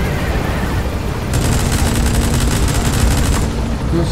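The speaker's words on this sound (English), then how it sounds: "minigun!" A minigun fires in Metal Gear Solid V: The Phantom Pain, a sudden, sustained, loud whirring stream of rapid shots that kicks in about a third of the way through and runs for roughly two seconds before cutting off.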